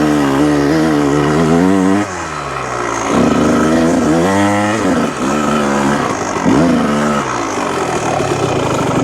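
A 1998 Kawasaki KX125 two-stroke dirt bike, freshly rebuilt, revs hard and loud while being ridden, its engine pitch climbing and dropping in repeated surges with a brief dip near the two-second mark.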